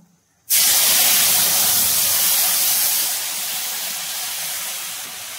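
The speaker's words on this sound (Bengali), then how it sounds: "পরিমাণ মতো জল দিয়ে দেবো" Water hits a hot pan of mustard paste tempered with nigella seeds and bay leaf for a Bengali parshe fish curry, setting off a sudden loud spraying hiss that eases to a softer steady sizzle.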